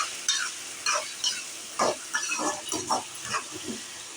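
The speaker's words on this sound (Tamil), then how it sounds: "உப்பு சேர்த்துட்டு இதை வந்து நல்லா கலந்து விட்டுறலாம்" A spoon stirs potatoes and salt in a pan, making a string of close scraping and shuffling strokes with a faint sizzle underneath and no talking.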